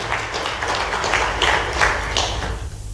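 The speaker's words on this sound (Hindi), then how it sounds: "उनका ताली बजा करके स्मरण करें।" A room of industrialists at an investment session in Jaipur claps steadily for nearly three seconds, a dense, even wash of applause with little talk.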